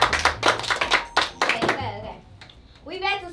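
A classroom of students claps in a scattered burst of sharp, uneven hand claps that fades after about two seconds, with a voice speaking briefly near the end.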